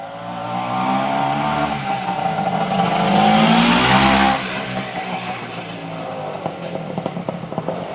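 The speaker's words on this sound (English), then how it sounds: "twin cylinder, 2-stroke 500. Wow. What a machine." A Yankee 500 two-stroke twin-cylinder motorcycle engine revs up loud and close, climbing to a peak of rising pitch around the middle, then settling into a rough, crackling idle with sputtering pops toward the end.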